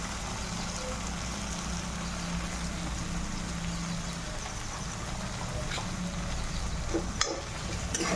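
Mustard paste and tomato ketchup fry in hot oil with a dense, continuous sizzle that stays loud and close throughout. A sharp clink comes near the end, and nobody speaks.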